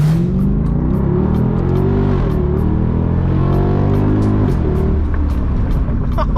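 Straight-piped Mercedes CL63 AMG engine and exhaust heard from inside the car, a loud continuous rumbling drone that rises and falls in pitch as the engine revs up and settles, with brief sharp crackles near the end.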